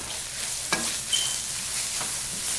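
Onions frying in a pan with dried thyme, rosemary and sage stirred in, a steady soft sizzle with a few brief scraping clicks from stirring.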